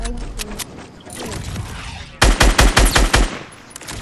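Video-game gunfire cracks out as a rapid burst of about six loud, close shots after a stretch of game noise, over a steady background hum.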